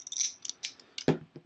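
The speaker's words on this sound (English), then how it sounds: "This is our stack of defeated 5s. Give them a shuffle." A small stack of playing cards being shuffled by hand: quick papery flicks and soft taps in short bursts, ending with a firmer slap as the cards are squared, close and fairly quiet.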